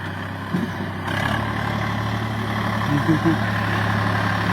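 A tractor engine idles nearby, parked in a low spot, with a steady low rumble throughout, a faint knock near the start.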